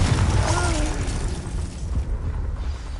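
A Confringo blasting spell explodes during Hogwarts Legacy combat, a loud booming burst with rumbling low end that decays over a few seconds amid battle noise.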